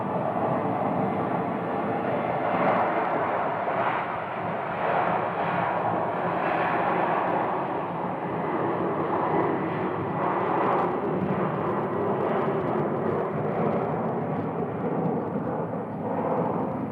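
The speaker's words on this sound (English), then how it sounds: "we have United 737-900 in the new colors headed up to Chicago." A United Boeing 737-900 airliner in new livery departs Phoenix Sky Harbor for Chicago, its jet engines a loud, steady, broadband roar that holds without a break throughout.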